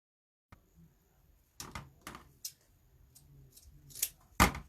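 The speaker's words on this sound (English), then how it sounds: "fold it in half, and cut it at an angle" Scissors snip through folded ribbon ends at an angle for a New Year's wreath: a handful of crisp, close cuts with brief rustles of ribbon between them, no one talking.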